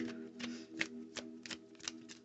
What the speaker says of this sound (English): Oh, and let's retry that shuffle.